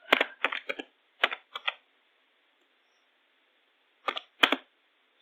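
Keys clatter on a computer keyboard while Java code is typed: two quick bursts of clustered keystrokes, a long quiet pause, then a few more taps near the end, close and crisp.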